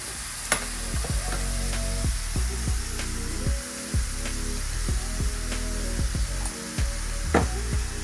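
Finely chopped onions with salt fry in a pan with a constant sizzle, while a spoon is pushed through them in rhythmic, repeated scraping strokes.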